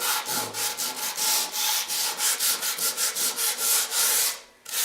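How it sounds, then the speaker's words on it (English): Heavy sandpaper rubbed by hand over wood in a steady series of close, loud rasping back-and-forth strokes with no voices. "I'd use my heavy sandpaper"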